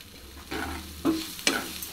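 Vegetables and noodles being stirred and fried in a pan for a veg Maggi recipe, a soft background sizzle broken by three distinct scraping stirs close to the microphone.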